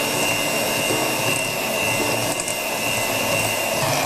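An electric mixer beats powdered sugar into a marble cake batter, giving a steady, loud motor whirr that holds unchanged for several seconds, with no talking.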